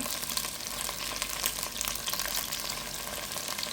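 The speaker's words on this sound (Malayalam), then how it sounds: "ഹൈ ഫ്ലെയിമിൽ ഒരു അഞ്ച് മിനിറ്റ് നമ്മൾ ഈ ഒരു വെണ്ടയ്ക്ക ഇതുപോലെ ഒന്ന് കുക്ക് ചെയ്തെടുക്കണം" Okra frying in a pan on high flame with salt and turmeric gives a dense, steady sizzle with faint stirring scrapes, close and continuous, with no voices.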